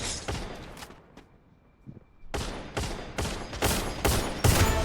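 A teammate's rapid gunfire in the Free Fire battle royale, loud repeated bursts of shots in quick succession after a short quiet gap, no talk.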